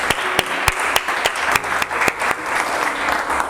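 A church congregation applauds, with loud individual hand claps standing out sharply over a dense wash of crowd clapping throughout, close and lively, with faint voices underneath.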